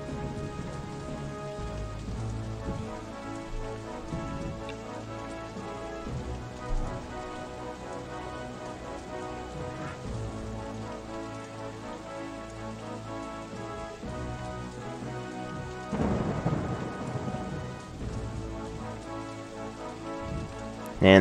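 Steady rain of a thunderstorm in the OpenRCT2 theme-park game patters continuously under faint music, with a brief louder rumbling swell of thunder near the end.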